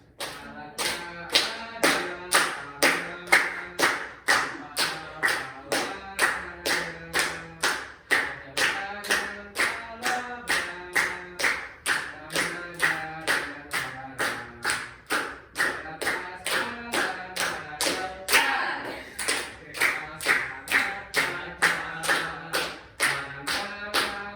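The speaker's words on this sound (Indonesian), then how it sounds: "Oke, teman-teman bantu tepuk tangan ya" A class group claps hands in a steady, even beat, about two claps per second, while voices sing a children's song along with the rhythm throughout.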